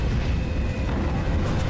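A Stuka dive bomber attack in the Enlisted war game lands as a dense, roaring explosive rumble. It is loud and close and fills the whole moment without a break.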